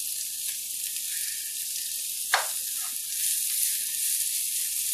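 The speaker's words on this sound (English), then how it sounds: "I'm just going to let my onions soften up a little bit." Onions fry softly in a pan with a quiet, continuous sizzle, broken by one brief clatter midway.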